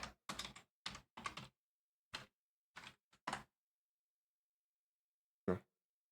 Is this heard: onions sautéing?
no